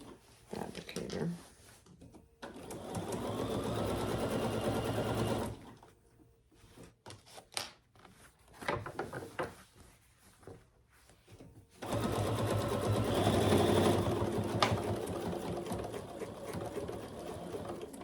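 A sewing machine stitching across the top of a thick tote bag runs in two long steady bursts, close, with handling sounds and a voice speaking in the quieter gaps between.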